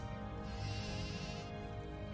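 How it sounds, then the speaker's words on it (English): Sheep bleating inside a farm barn in a Nancy Drew computer game, a faint, steady bleat drifting over a constant low ambient hum for about two seconds. "Is that a sheep?"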